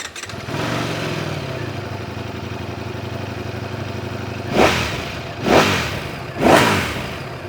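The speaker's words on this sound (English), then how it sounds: "The 70-degree crank pins require a twin pulse firing order, which gives the bike a distinctive MotoGP bike sound." A 2025 Ducati Panigale V4 S superbike engine, twin-pulse firing order, holds a steady rumble, then revs sharply three times in quick succession, each blip rising and falling, loud and close.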